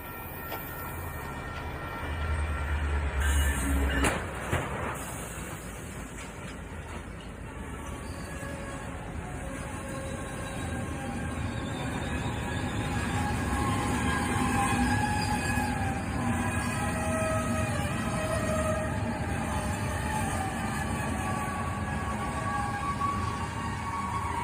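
A speeding train roars past for a long stretch, loud and continuous with rumbling wheels and a faint metallic squeal, after a brief knock near the start.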